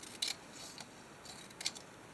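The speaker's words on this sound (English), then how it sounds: "I think I better do this with scissors." Scissors snipping paper for a journal collage page, a few short crisp cuts spaced apart, close and fairly quiet.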